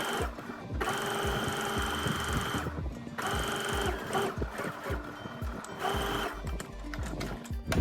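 A sewing machine stitches a kameez in rapid mechanical bursts, running for a couple of seconds, pausing briefly, then starting again, loud and close with a steady whirring clatter.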